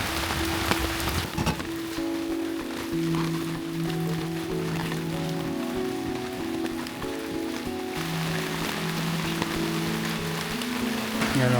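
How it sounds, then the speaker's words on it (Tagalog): Heavy rain falls at a campsite at night in Lobo, Batangas, a dense steady patter on surfaces heard up close, with faint tonal sounds in the background and no clear talking. "Lakas pa rin ang ulan"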